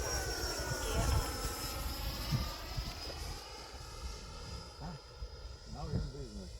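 An E-Flite F-16 80mm electric ducted-fan RC jet flying, a steady high whine with a rising and falling pitch as it passes at a distance, with wind noise and some speech mixed in.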